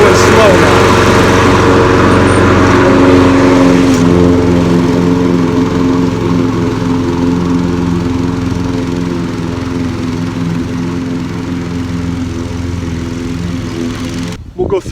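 A lawn mower with its blade raised to 3.5 inches runs steadily and loudly through overgrown grass, a constant engine drone that holds for the whole stretch before cutting off abruptly at the end.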